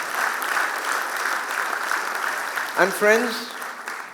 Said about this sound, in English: let's give him a round of applause because he couldn't be here today